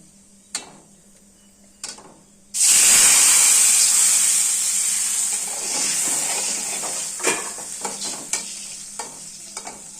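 Water hits hot spices frying in a pan for mango chutney, bursting into a loud, steamy sizzle and hiss that slowly settles while a spoon stirs with scattered clinks.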